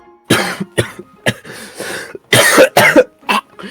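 A burst of harsh, repeated coughing, several hacking coughs in quick succession with short gaps, close and loud, with some throat clearing.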